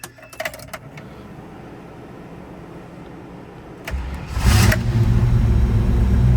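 A 1985 Toyota Land Cruiser with a fuel-injected 350 engine turns over and catches, preceded by a few brief clicks and rattles, then settling into a steady, loud low idle rumble that continues to the end.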